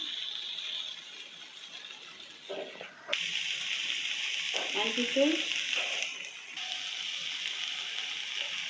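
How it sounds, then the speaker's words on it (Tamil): Okra sizzles and hisses steadily in a hot pan, louder after a stir, with occasional scraping and clinking of a utensil. "பாருங்கள், வெண்டைக்காய் நல்லா வதங்கிட்டு"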